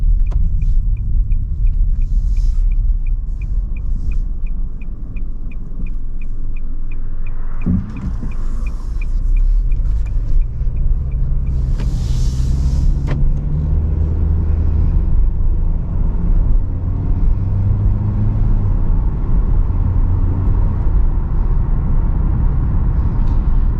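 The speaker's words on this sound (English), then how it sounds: "driving this 2022 Nissan Kicks, I love the fact that it's nice and responsive, very smooth" Inside a 2022 Nissan Kicks on the move, a steady low engine and road rumble fills the cabin, continuous and even with no voices.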